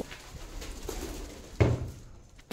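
Pet pigeons wander loose after their feathers are released, and a single low coo sounds faintly against quiet outdoor background noise.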